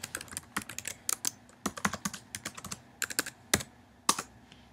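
Computer keyboard typing a first name into a social media signup form, a soft, close, irregular run of key clicks with short pauses between bursts, no voice.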